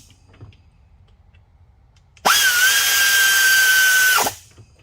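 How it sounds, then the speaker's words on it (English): A 1/4-inch drive air ratchet runs in one steady, loud whine for about two seconds while snugging bolts on a four-wheeler, then cuts off. "I'm using a 1/4 inch drive air ratchet"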